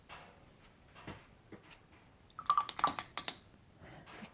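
A metal watercolor palette clinks and taps sharply several times in quick succession while paint is mixed, a short bright cluster of contacts standing alone with no talk.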